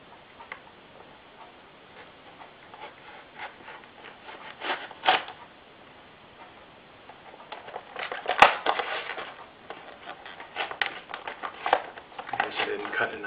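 Scissors snip and crunch through plastic and cardboard packaging of a Star Wars Legacy Collection Concept Snowtrooper action figure, with irregular close clicks and crinkling, building into denser bursts of cutting and rustling.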